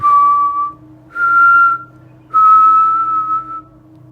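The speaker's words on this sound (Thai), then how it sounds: "แล้วเสียงผิวปากก็เริ่มดังขึ้นอีกครั้ง" Three sustained whistled notes, each slightly higher or wavering, rise loud and close over a quiet low hum, with pauses between them.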